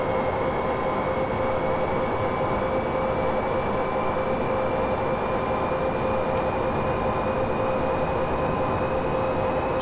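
Br 111 electric locomotive running in Train Simulator 2015 on the Hannover–Uelzen line, a steady rumbling rail drone with a sustained whine of tones, continuous and even throughout with no voices.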